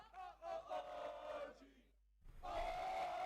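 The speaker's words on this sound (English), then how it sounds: "Crowd chanting OG2." A crowd chanting OG2 at a Valorant Challengers esports playoff match, a loud, sustained roar of massed voices that drops out briefly and then swells back in full and strong.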